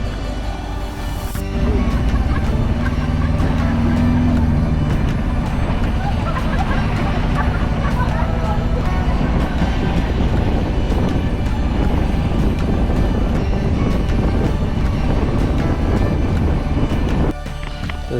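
Steady rumble of a car ride, low engine and road drone continuing evenly for most of the stretch, with broadband noise over it and a short quieter gap at the start and end.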